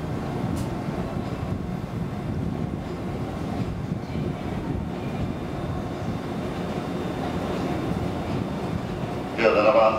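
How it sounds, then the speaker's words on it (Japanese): An E653 series Fresh Hitachi express train departs along the platform with a continuous low roar, ending in a brief louder clatter at the close. "17番線から列車日立51号高萩行き発車です。"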